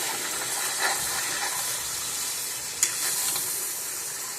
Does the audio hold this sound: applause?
no